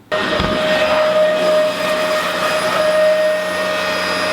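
A household vacuum cleaner starting up and running steadily with a loud, constant whine and roar, close by and alone.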